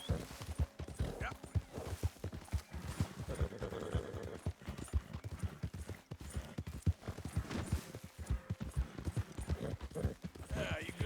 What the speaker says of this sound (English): Why does my horse run like a bag of sand through here?